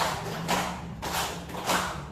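A teacher's counting-clap routine in a classroom gives four soft hand claps at a steady, unhurried pace, close by and modest in loudness, with no voices over them.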